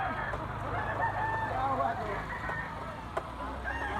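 A young rooster, a white-legged stag, crows in a farmyard, the call rising over a steady background of voices and low rumble, one drawn-out crow at moderate distance.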